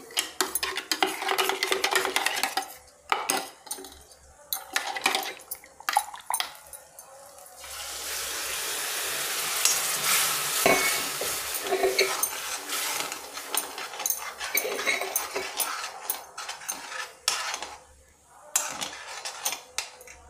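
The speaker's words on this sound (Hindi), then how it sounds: "अब इसको हम थोड़ी देर के लिए पकाएंगे, 5 मिनट के लिए ढक देंगे।" Paneer gravy stirred in a pan with a metal spoon, close up, with irregular scraping and clinking against the pan and a wetter, bubbling stretch partway through.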